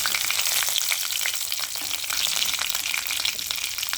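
Dried red chillies and a few curry leaves crackle in hot oil, making a dense, close sizzle with rapid pops that stays steady throughout.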